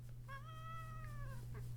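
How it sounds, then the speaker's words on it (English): A single drawn-out cat meow, clear and close, rising then slowly falling in pitch, over a steady low electrical hum with no talking. "why don't you just meow right into the camera?"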